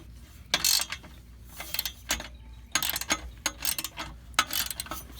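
Socket ratchet tightening a bolt during an exhaust H pipe install, quick bursts of clicking pawl strokes repeated in short runs with pauses between, close and fairly faint.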